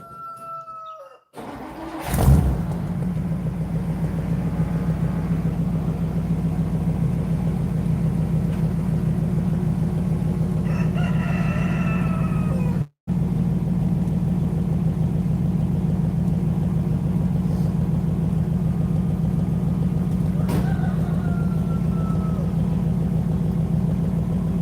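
An International Cub engine on a 1940s wood splitter catches after a brief crank and settles into a loud, steady running drone, with one short cut-out midway and a few faint background chirps.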